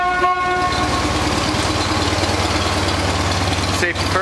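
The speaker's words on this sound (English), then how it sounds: "Safety first, always honk, make sure no one's gonna get run over." A horn gives a short honk right at the start, then a vehicle engine keeps up a low idling rumble for the rest of the few seconds at a brewery hauling spent grain.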